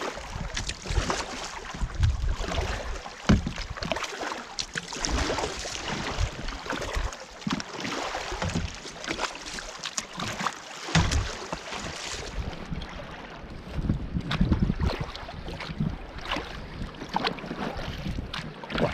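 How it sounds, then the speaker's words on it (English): Pack raft paddled across Loch Treig in Scotland: soft paddle splashes and water lapping heard close against steady wind buffeting the microphone, with irregular dips and strokes throughout and no talking. "Paddling straight for that wee point ahead there folks"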